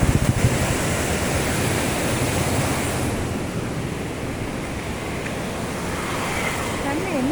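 Water from an opened sluice gate rushes past fast in a continuous, dense roar close to the microphone, with wind-like noise mixed in and no break in the flow.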